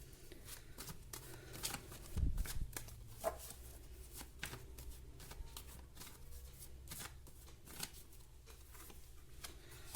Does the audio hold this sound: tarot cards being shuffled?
yes